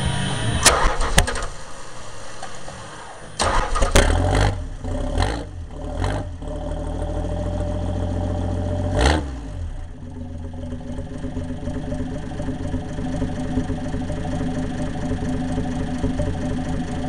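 Small engine on an undertiller cranks with several sharp pulls and bursts, catches and then settles into a steady, continuous rumbling idle close to the microphone.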